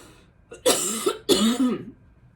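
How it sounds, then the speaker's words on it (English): Two harsh, close coughs in quick succession, each a short loud burst, with quiet before and after. "I'm going to cough."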